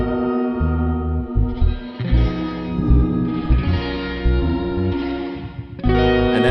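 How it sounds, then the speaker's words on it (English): Bass guitar plays a rhythmic line beneath a reverb-soaked surf electric guitar, low notes pulsing in short phrases under the sustained chords, loud and upfront with no talking. "then I played some bass on top of it."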